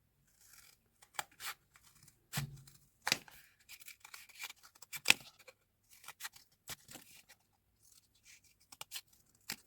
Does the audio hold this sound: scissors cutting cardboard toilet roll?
yes